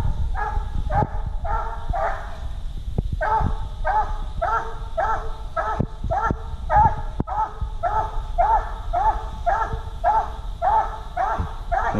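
Walker coonhound baying at a raccoon treed at night, repeated loud barks in a steady rhythm over about twelve seconds, fairly close, with no talking.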